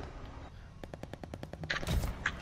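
Video game gunfire in a Call of Duty Vanguard match: a rapid burst of about ten evenly spaced shots, then a heavier, louder blast and scattered impacts, fairly close and dense.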